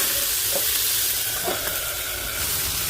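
Tomatoes frying in a pan for breakfast, a steady close sizzle and hiss with faint stirring clinks, continuous and unbroken.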